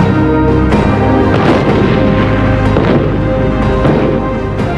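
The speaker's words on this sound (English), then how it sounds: "they were being blasted by German anti-aircraft guns" German anti-aircraft flak shells bursting around B-24 bombers of the 8th Air Force, a dense, loud, continuous barrage of booms and rumbling blasts with sharper cracks standing out every second or so.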